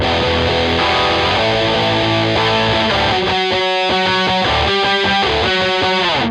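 Overdriven electric guitar playing the chorus of a song, starting with sustained open chords and shifting to choppier, rhythmic strummed hits, loud and close.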